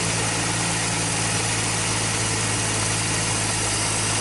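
1961 Dodge Lancer engine idling rough just after starting, a steady, loud, close mechanical hum with constant vibration and no voices.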